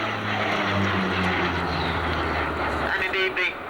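A Dutch air force Fokker F-27 turboprop flies a display at Leuchars in the 1990s, its propeller engines droning steadily overhead with a commentator talking over the sound.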